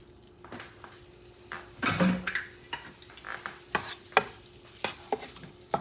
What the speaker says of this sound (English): I like to sear the shrimp a little bit at first